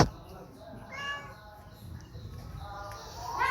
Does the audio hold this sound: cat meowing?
yes